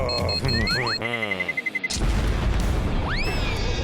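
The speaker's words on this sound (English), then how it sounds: "There was a bomb!" A cartoonish bomb blast bursts out as a loud boom with crackling debris, preceded by whistling and warbling animated effects and followed by a rising swoosh, all close and punchy.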